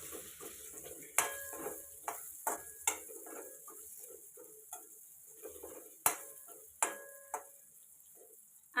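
Paneer fries in oil over a low flame under a soft, steady sizzle, while a spoon strikes the pan at irregular intervals with a series of sharp metallic clinks.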